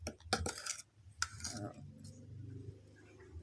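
Utensils scrape and clink against a bowl while seasoning is mixed into meat, a few quick metallic taps then softer stirring, close and fairly quiet.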